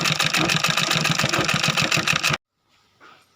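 Sewing machine stitching piping onto old fabric at home, with a fast, loud mechanical rattle of rapid needle strokes for about two seconds that stops abruptly, followed by near silence and a faint handling sound.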